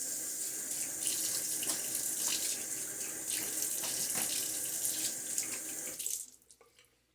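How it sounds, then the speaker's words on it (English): A bathroom tap runs water into a sink for wetting the face before a shave, a steady close splashing that stops abruptly near the end, leaving quiet drips. "Alright, give my face a little water."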